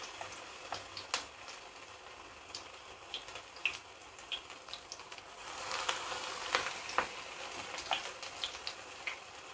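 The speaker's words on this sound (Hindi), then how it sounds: "एना गोल गोल बना के तेल में राखे छै" Veg Manchurian balls frying in hot oil, a soft steady sizzle with small crackles and pops throughout, fairly faint and close, no talking.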